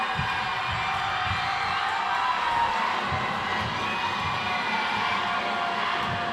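A high school girls' basketball crowd in a gym cheers and shouts steadily before a free throw, a dense, loud, continuous roar of voices with no pause.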